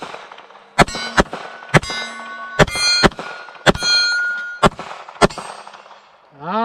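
A Glock 19 Gen 5 pistol fires a quick string of about eight shots, each with a sharp report and a bright ringing clang as rounds strike steel targets, close and loud, with brief pauses between shots.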